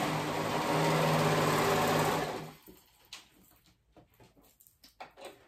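A sewing machine stitching ruffles around a dress runs in a loud, steady close whir for about two seconds, then stops, followed by light fabric handling and small clicks.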